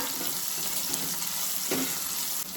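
Onions frying in a pan for a Goan-style cabbage bhaji, a steady close sizzle that continues unbroken, with a faint stir or clink partway through.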